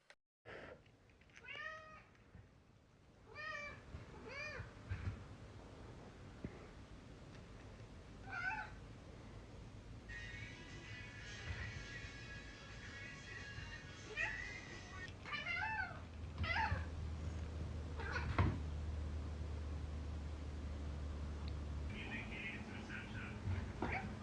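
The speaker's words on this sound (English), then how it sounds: "The cat with the bauble." Cats meowing in several short, bright calls spread through the clip, mixed with soft chatter and commentary, a tinny music-like passage and a low background hum.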